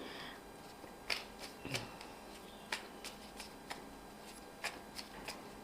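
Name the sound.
tarot cards being shuffled and drawn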